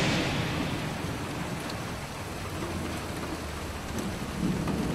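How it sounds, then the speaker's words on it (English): Rainstorm with thunder in a Roblox game, a steady dense hiss of falling rain over a low rolling thunder rumble that swells near the end, with no talk. "It's gonna storm."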